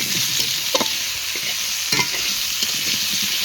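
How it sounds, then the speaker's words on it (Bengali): Potatoes with salt and turmeric fry in a pan, a constant loud sizzle broken by several short spatula scrapes and knocks as they are stirred, with no voices. "আবার ভেজে নেব আলুগুলোকে।"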